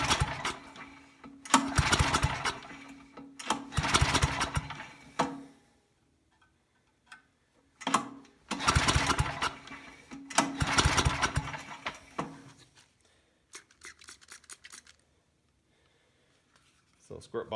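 A Tecumseh-engined Wilco 4000 watt generator is cranked after gas is squirted in with no choke, giving two loud stretches of rough, sputtering engine noise separated by a pause, then fading to quieter clicks.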